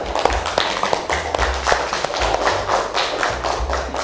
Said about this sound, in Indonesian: Tepuk tangan untuk kalian yang telah mendukung acara ini